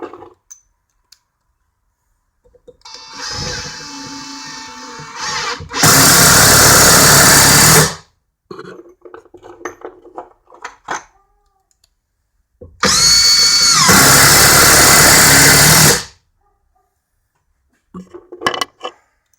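A Makita 18V LXT BTD141 cordless impact driver sinks an 8 by 3-inch screw in two loud, sustained hammering bursts of about two and three seconds, separated by quieter handling clicks and shuffling.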